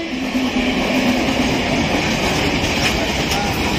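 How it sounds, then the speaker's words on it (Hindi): A freight train rumbles past nearby a cattle farm in Hyderabad, its wheels clattering over the rails in a loud, continuous roar. "ये है मालगाड़ी,"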